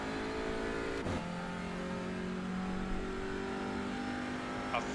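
TCR touring car engine in a racing game at Donington, a steady buzzing drone with climbing rev tones and a brief gear-change dip, continuous and alone.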